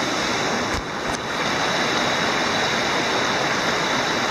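A brook on the Appalachian Trail in Maine flows as a loud, steady rushing of water with constant broadband splashing. Two brief thuds occur near the start, and no one speaks.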